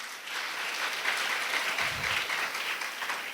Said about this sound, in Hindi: ताली तो बजाओ इसके लिए यार